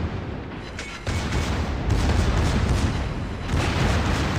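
Secondary guns on a warship in World of Warships fire in a dense, continuous barrage of booming artillery blasts, loud and close, with rumbling shots overlapping throughout and no pauses.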